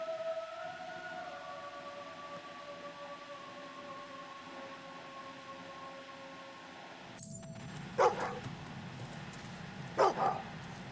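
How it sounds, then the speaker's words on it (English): A dog in Fable 2 lets out two short sharp barks, one after the other a couple of seconds apart, rising over quiet game ambience and a fading tonal hum. "Dog."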